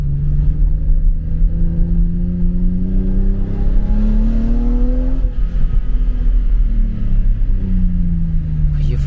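A BMW e34 M5 straight-six engine revs up close and loud, its note climbing in a long wailing rise, dropping off, then starting to climb again over a steady low rumble.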